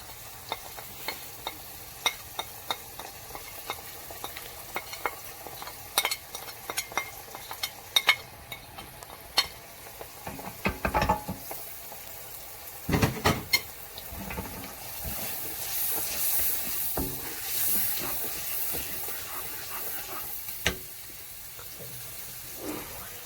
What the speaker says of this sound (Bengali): মশলাগুলো যখন কষবে, আপনারা অনবরত এরকম মশলাটা নাড়বেন